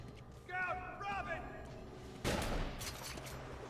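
Sniper gunfire rings out in Batman: Arkham City, with a sharp loud shot cracking over game ambience after a voice talks over it.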